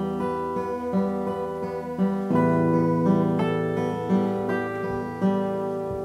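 Steel-string acoustic guitar picked with the fingers, bright, sustained notes and arpeggiated chords ringing over one another, close and unaccompanied at a steady moderate loudness.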